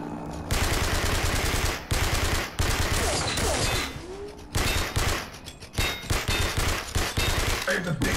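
Rapid submachine gun bursts from the video game Blood & Bacon rattle loudly and almost without pause, broken by a few brief gaps, with voices now and then under the fire.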